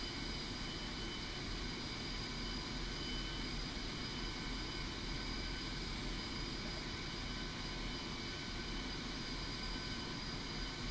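Aircraft engine in the video game DCS World while taxiing, a steady, unchanging drone with a constant whine, held evenly throughout without talk.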